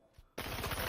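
In the space game Star Citizen, enemy gunfire bursts in suddenly after a near-silent moment, a fast, loud rattle of closely spaced shots.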